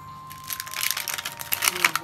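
A Ready2Robot toy package being unwrapped, its plastic wrapping crinkling and crackling in quick, uneven bursts that grow busier toward the end, close and fairly quiet.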